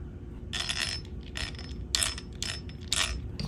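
Screwdriver tightening a screw on an Axial Ryft RBX10 being built into an RC crawler, giving four short bursts of mechanical ratcheting clicks at a steady rhythm, close up, with no talk.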